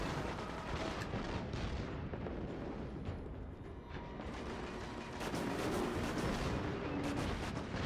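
Gunfire in the sci-fi shooter Destiny on a Venus patrol, heavy repeated shots and booming impacts blending into a loud, continuous barrage with a brief lull midway.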